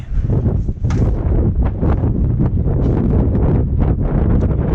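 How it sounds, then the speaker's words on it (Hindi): Strong wind gusts roar outdoors at the high-altitude Pakistan–China border on the Silk Road, a loud continuous buffeting rumble against the microphone with no pauses. "बाहर इतनी तेज हवा"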